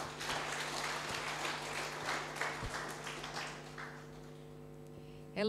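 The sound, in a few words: audience applause for the moderator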